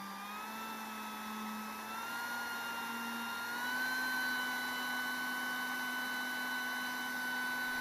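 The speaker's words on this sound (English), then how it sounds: "We push the main switch and the motor starts running." Motor of a RiOn 2 DIG hot air blower running after switch-on: a steady, close whirring hum with a fan-like rush of air, holding constant with a slight pitch rise midway, no speech.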